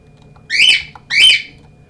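Two loud bird squawks, each about half a second long, sound close to the microphone and are separated by a brief pause, with a faint background hum underneath.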